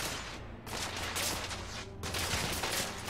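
Bursts of gunfire rage through a Victorian-era shooter battle in The Order: 1886, a dense run of shots and echoing fire spread across a few seconds with barely a pause, loud and continuous with no voices over it.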